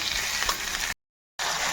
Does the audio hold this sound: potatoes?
yes